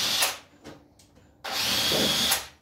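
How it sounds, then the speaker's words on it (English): A high powered drill boring into wood for a stackable crate, a short whirring burst, a pause with faint sounds, then a longer sustained close whine. "Really high powered drill."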